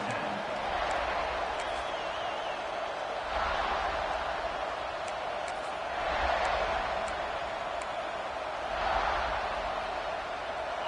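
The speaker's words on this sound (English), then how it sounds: "This crowd ready to make its presence known." Stadium crowd noise in an NCAA football video game: a continuous roar that swells and ebbs in slow waves, loud and steady throughout, with faint whistles over it.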